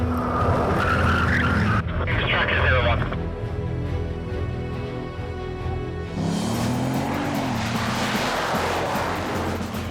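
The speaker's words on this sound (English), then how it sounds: "I was doing 188 miles an hour and getting ready to brake for the mile turn." A race car braking hard from 188 mph screeches with a loud tyre squeal, then the engine note drops and hums before a rough, roaring burst of skidding returns, with someone talking over it.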